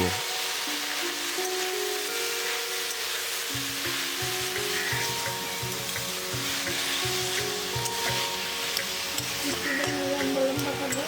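Tilapia fish curry with pumpkin shoots and leaves being stirred in a pan over high flame, a steady sizzle with a stretch of rhythmic scraping and clinking stirs.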